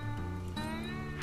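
Cartoon cat in the adventure game Broken Age giving a short, tonal meow that bends in pitch, heard alone over a soft game music bed for about a second.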